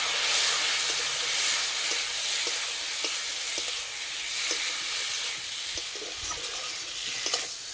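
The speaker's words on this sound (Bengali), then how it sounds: "আলুর সঙ্গে মশলা ভালো করে কষিয়ে নিয়েছি" Potatoes fry and sizzle in a pan with spices and turmeric, a steady loud hiss broken by scraping stirring strokes, close up with no one talking.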